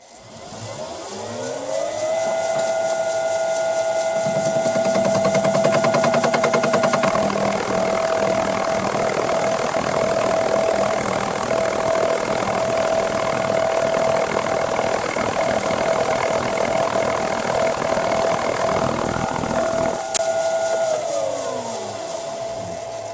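A metal lathe runs through a slow cutting pass on a workpiece, a steady mechanical whine with a high tone that holds for about twenty seconds before the machine spins down.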